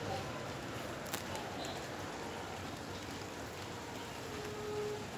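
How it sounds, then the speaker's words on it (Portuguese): Rain falls steadily outdoors in Montes Claros, a faint continuous hiss of drops with a few brief taps, no talk. "quanta dádiva que é uma chuva"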